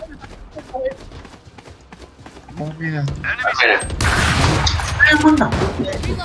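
Gunfire in a Counter-Strike-style shooter match, a burst of rapid shots and booming game effects that swells in the second half, layered under excited talk from players.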